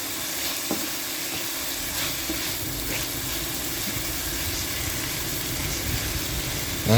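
Pechay and ground pork sauté in a pan with a steady close sizzle and occasional stirring scrapes, continuous and moderately loud with no talking.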